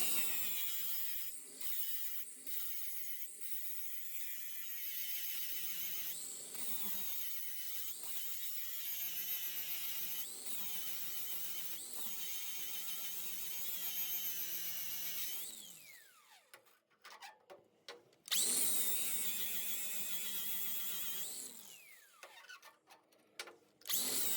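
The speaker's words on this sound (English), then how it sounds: "Got one of these flapper discs on there. And we'll just clean it up a little bit." A flap disc on a power grinder cleans up a fresh weld in a loud, sustained whine for about fifteen seconds, then comes short on-off bursts of grinding with near-silent gaps between them.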